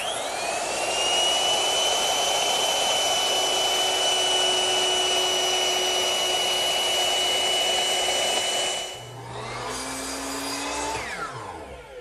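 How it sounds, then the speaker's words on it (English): Power tool, likely a router, running a decorative chamfer along the edges of wooden panels for a rustic coffee table: a loud, steady high whine for about nine seconds, then a dip and a winding-down tail. "I'm running a decorative chamfer right along the edge of all four pieces"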